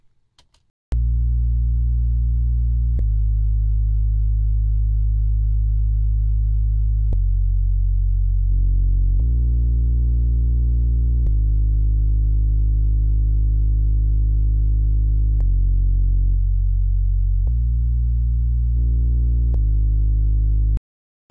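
A deep synth bass through a vintage broadcast limiter plugin plays sustained notes that shift pitch every couple of seconds, thick and steady with a warm, slightly colored midrange.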